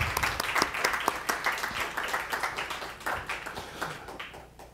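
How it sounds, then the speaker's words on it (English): An audience at a forum on generative AI and media ethics applauds the writers, a dense, moderately loud round of clapping that gradually fades toward the end. "So I want to give applause for these writers."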